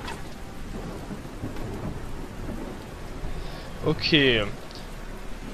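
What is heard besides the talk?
rain and thunder in Stronghold 3 video game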